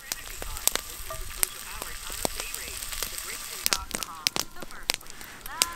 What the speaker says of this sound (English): I just love using a cast iron pan over a fire